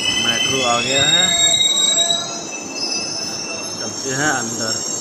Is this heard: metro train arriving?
yes